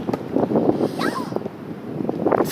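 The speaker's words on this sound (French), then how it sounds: "si vous nous entendez mal, c'est parce qu'il y a beaucoup de vent." Strong outdoor wind buffets the microphone on a mountain-bike trail, a loud, continuous rumbling roar that swells and dips throughout.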